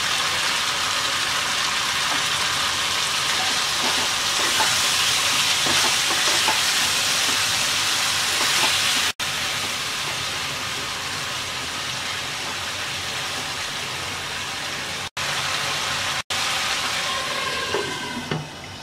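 Catfish sizzling in a pan of fried spices, a steady, dense hiss that runs unbroken at close range and cuts out briefly twice near the end.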